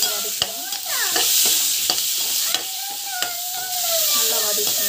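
Chopped tomato with salt sautés in a pan: a loud, continuous close sizzle with repeated spatula strokes and scrapes as it is stirred.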